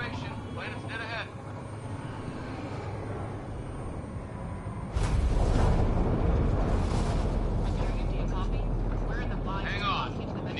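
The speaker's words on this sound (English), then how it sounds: "Initiating atmospheric entry." A spacecraft entering a planet's atmosphere in Mass Effect Andromeda, a deep roaring rumble that swells and grows heavier midway and then holds steady, with voices speaking over it.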